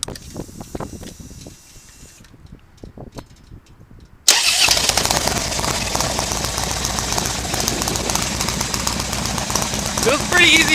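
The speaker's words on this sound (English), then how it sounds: "So here's my bike, and I'm gonna turn it on, and you might hear the difference" A 2008 Harley-Davidson motorcycle with Vance & Hines exhaust and S&S 585 Easy Start cams fires up after faint handling noises, then settles into a loud, close, lumpy idle.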